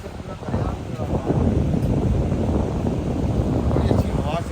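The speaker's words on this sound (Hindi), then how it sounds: "बड़ी अच्छी हवा चल रही है।" Wind blows across an open high spot above an abandoned amusement park in Haryana, buffeting the microphone with a steady low rumble that swells after the first second.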